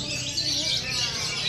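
A kacer, or magpie-robin, sings at a bird contest in a dense, continuous stream of high chirps and warbles, moderately loud against busy crowd and outdoor background noise.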